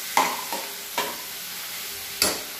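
Greens palya (gorajji leaves) being stirred into a sizzling tempering in a pan, three or four distinct scraping stirs over a soft steady frying hiss, close and clear without speech.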